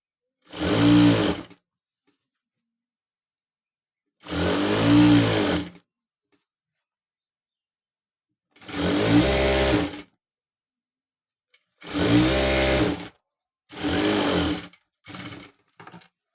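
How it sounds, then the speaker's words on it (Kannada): A sewing machine stitches a blouse in short loud bursts close by: five runs of a second or so separated by pauses, then two quicker final spurts. "ನೀಟಾಗಿ ಒಂದು ಸ್ಟಿಚ್ ಹಾಕೊಡ್ತೀನಿ"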